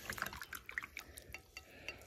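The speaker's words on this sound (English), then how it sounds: "All right, let's wash him up in the water." A toy dinosaur is swished and washed in water, giving a quick series of small splashes, drips and light plastic knocks close by.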